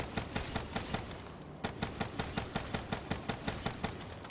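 Rapid automatic gunfire bursts from the Fireworks gobblegum in Call of Duty Zombies, a fast, even rattle of sharp shots roughly every fifth of a second, with a brief pause midway before the volley resumes.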